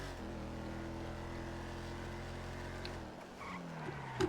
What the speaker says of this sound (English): And it brakes a lot better,